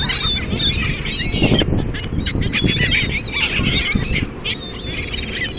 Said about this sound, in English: Okay, I'm gonna feed the birds.